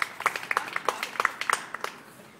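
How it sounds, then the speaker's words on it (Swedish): Audience applause at a ventriloquist's studio performance, a short burst of scattered claps that fades out over about two seconds with no talking. "en stor applåd!"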